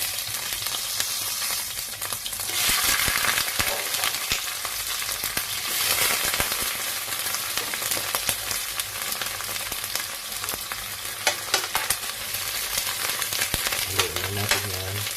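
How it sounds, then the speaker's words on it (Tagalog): Shrimp sautéing in a wok fill the clip with a loud, continuous sizzle and spitting oil, with stirring scrapes and utensil knocks that grow busier near the end. "Tapos sulog muna natin itong hipon."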